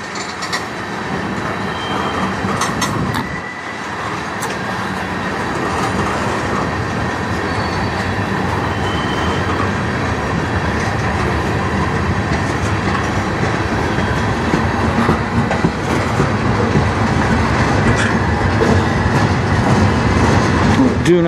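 A CN freight train hauled by locomotives rumbles past westbound on the Strathroy Subdivision, continuous clattering wheels and occasional squeals, loud and close throughout, with no talking.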